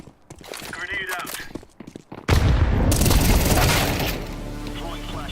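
A grenade blast in a shooter video game, one sudden heavy boom that cuts in after a stretch of speech and gunfire, then a loud rumbling roar that slowly fades.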